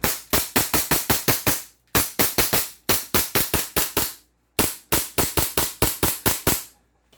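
A non-upgraded 2011 5.1 Trex airsoft gun fires three rapid bursts of sharp, loud snapping shots, each about seven to nine cracks long, with short pauses between bursts.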